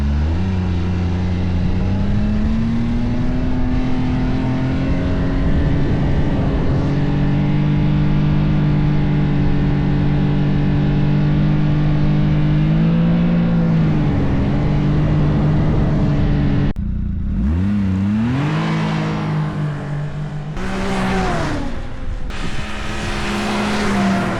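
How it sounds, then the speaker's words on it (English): A Ski-Doo 1200 snowmobile with its stock exhaust muffler, engine droning loud and close at a steady idle that rises into revs, then blips sharply several times near the end. "Let's first jump on and see how the existing stock exhaust muffler sound."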